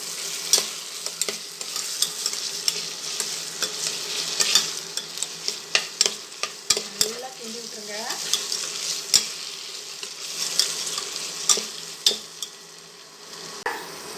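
Mint and spices for mutton biryani sizzle in a pressure cooker while a utensil scrapes and stirs through them in irregular strokes, with a constant frying hiss underneath, close and clear.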